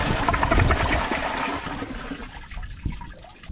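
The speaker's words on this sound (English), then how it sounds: "let's first give it a flush." A 2009 Kohler Wellworth Class 5 toilet flushes with a loud initial gush of water that tapers into swirling, trickling refill sounds, close and alone.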